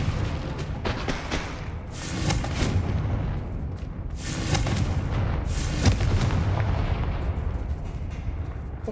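Confringo fire spells exploding in Hogwarts Legacy, with several heavy booming blasts in a row, each with a loud crack and a rolling rumble, set over continuous battle noise.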